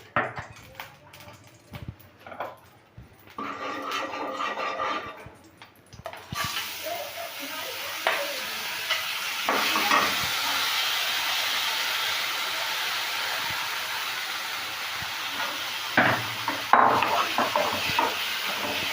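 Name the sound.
rice being roasted in ghee and stirred for kheer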